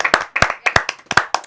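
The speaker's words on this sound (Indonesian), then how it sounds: "Tepuk tangan dulu untuk Militia and the gang." A few people clap for a team at a Christmas youth gathering. The claps are close and loud, with several quick bursts in an uneven rhythm.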